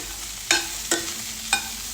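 Onions fry in a pan with salt and turmeric over a steady, loud sizzle, while a spoon stirs and scrapes the pan in three sharp strokes, close by and without voices.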